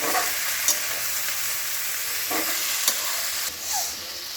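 Mongre radish pods fry in a pan with a steady, loud sizzle throughout, broken by a few soft stirring scrapes.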